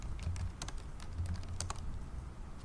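Rapid tapping on a computer keyboard, close and fairly quiet, with irregular bursts of keystrokes over a low steady hum.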